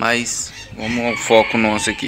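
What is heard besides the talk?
rooster crowing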